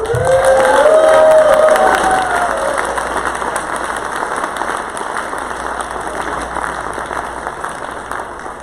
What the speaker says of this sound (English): I'd like to ask for a round of applause for our pianist, Gene Black